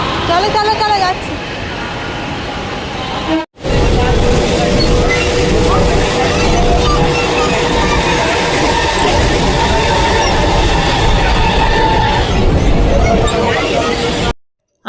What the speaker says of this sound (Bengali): আমরা ট্রেনে বসে পড়েছি